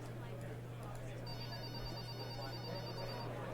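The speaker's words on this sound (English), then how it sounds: "And can someone pick up that phone?" A telephone rings with a repeated electronic trill over a steady background hum, faint and somewhat distant.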